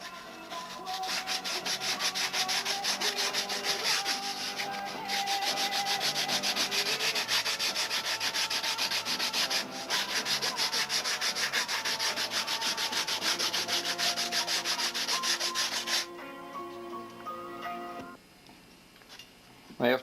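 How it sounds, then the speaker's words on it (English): Rough 80-grit sandpaper on a block scrubs model airplane balsa wood in fast, steady back-and-forth strokes, close and continuous for most of the stretch before easing off near the end. "This is some nice rough 80 grit. A Ringmaster leading edge works out to be real good for doing this kind of hollowing."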